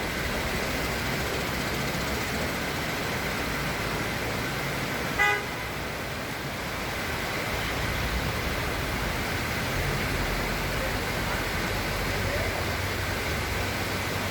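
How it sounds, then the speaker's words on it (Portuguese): Cars drive through a flooded street in heavy rain in Uberaba, a steady broadband wash of rain and splashing water filling the scene, with a single short car horn toot near the middle. "Olha os carros, olha o carro."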